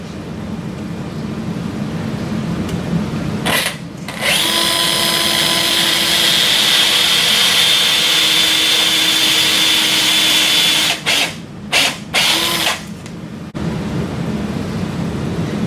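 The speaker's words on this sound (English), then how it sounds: "Drive the carpal twist drill over the guide pin until the shoulder of the drill is flush with the articular" A surgical carpal twist drill is powered over a guide pin into a capitate bone model. It runs as a steady, high whine for several seconds, then stops and starts in a few short bursts.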